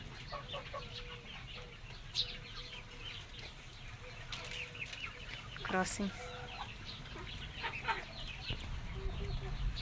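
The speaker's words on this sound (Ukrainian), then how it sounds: "Як он півник. Кохінхін." A Cochin rooster clucks and calls among other chickens, with scattered clucks and a brief wing flutter; a person speaks briefly over the farmyard noise.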